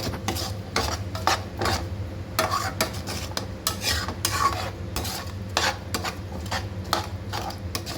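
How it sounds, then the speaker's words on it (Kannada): Turmeric is stirred into a spice masala in a pan, giving repeated scraping strokes of a spoon against metal with a soft sizzle beneath, close and steady, with no talking. "ಒಂಚ ಚಿಕ್ಕದು ಸ್ಪೂನ್ಲೆ ಅರಿಶಿನ ಇದನ್ನು ಚೆನ್ನಾಗಿ ಕಲಿಸ್ಕೋಬೇಕು ಮಸಾಲೆನ"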